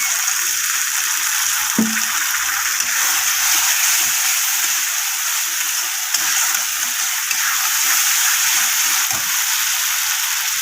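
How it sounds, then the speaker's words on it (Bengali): Water poured onto frying spices in a pan sets off a loud, continuous hiss and crackle of sizzling, close and unbroken, with occasional faint clinks of a utensil beneath it. "মশলাটা লেগে নিয়ে একটু জল দিয়ে দেবো।"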